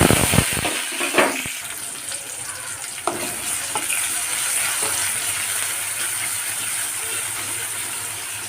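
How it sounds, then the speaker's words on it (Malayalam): Crushed garlic and onion fry in hot coconut oil with mustard seeds for a jackfruit dish, a loud steady sizzle that opens with a few sharp spatters and clatters, then settles into an even hiss with no talking. "ഇനി വെളുത്തുള്ളി ഉള്ളി ചതച്ചിട്ട്"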